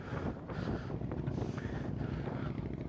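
Strong wind in Urfa buffets the microphone outdoors as a continuous loud, rumbling roar with no breaks.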